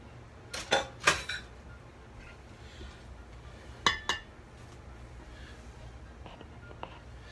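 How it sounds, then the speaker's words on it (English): Dirty dishes, pots and cutlery clink as they are cleared from a home kitchen during pasta preparation. Two close bursts of sharp clatter stand out, followed by a few faint, scattered clinks over a quiet background. "We're going to get rid of the dirty dishes here."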